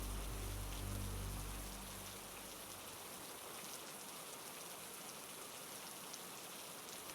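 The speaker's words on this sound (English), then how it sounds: "There was no sound except raindrops hitting the umbrella and ground." Steady rain patters on an umbrella and the ground, a soft, even hiss that stays faint and unbroken, with a low rumble fading out in the first couple of seconds.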